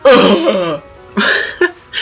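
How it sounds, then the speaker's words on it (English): Embarrassed coughs and throat clearing from the visual novel Katawa Shoujo: a longer raspy cough followed by a few short, close, loud throat-clearing bursts separated by silence. "He gives an embarrassed cough."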